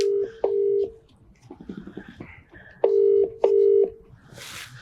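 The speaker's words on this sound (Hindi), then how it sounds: "तीसरी बार कॉल जा रही है।" A phone call being dialed and ringing: two long steady ring tones open the clip, soft quick dialing beeps follow, then two more loud ring tones, with a brief noisy burst at the end.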